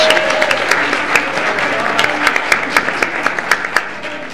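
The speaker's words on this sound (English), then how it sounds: "One more round of applause for Tracy and Princess" A church congregation applauds two youth leaders during a service, a dense wash of clapping with a few sharper individual claps standing out near the end.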